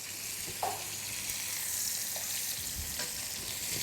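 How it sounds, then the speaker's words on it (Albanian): A chicken roll fries in oil in a pot, producing a soft, even sizzle with a few faint clicks and no voices. "fillimisht të kalohet roleja në tenxhere kështu me gjatë edhe me vaj"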